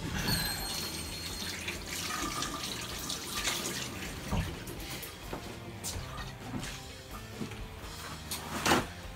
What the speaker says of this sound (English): Here, let's just rinse this.